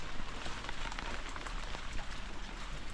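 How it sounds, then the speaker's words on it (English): Heavy rain falling in a garden in Bulawayo, Zimbabwe, a dense continuous patter of drops on surfaces filling the whole stretch, steady and close with no voices. "So that I capture all the rain"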